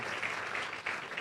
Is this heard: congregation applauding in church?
yes